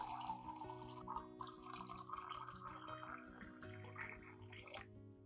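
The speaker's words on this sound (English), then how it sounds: "Next, add about 500 milliliters of clean water to the glass." Clean water pours steadily into a glass holding rice, a continuous trickling stream with a rising tone as the glass fills, quiet and close, ending abruptly.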